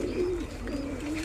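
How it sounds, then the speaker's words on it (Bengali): Pakistani high-flying pigeons coo close by, with a low, rolling, throaty warble that rises and falls in several soft phrases over a faint background hum. "এনে পাকিস্তানি কবুতর সবগুলা পাকিস্তানি হাই ফ্লাইট কবুতর"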